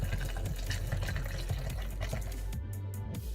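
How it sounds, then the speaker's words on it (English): A water cup being refilled from a tap or dispenser, with a steady rushing pour of liquid that carries on for several seconds. "I'm just refilling my water cup."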